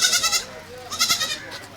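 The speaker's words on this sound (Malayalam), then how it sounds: "ആടുകളായി നമ്മുടെ ചന്തയിൽ ഇപ്പോൾ ആടുകളായി." Goats bleat loudly and close by at a wholesale goat market in Kerala on a drizzly day, with two quavering calls in quick succession.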